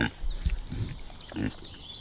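A pig on a farm grunts low and short three or so times, close by, with faint background noise between the grunts.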